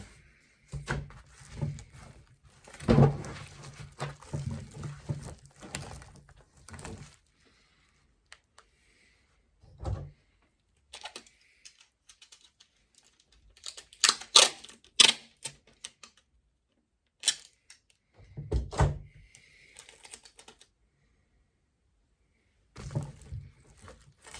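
An iPad package being taped shut, heard as bursts of crackly tape pulling and sticking, several rapid rips separated by quiet pauses, close and moderately loud, with no talk.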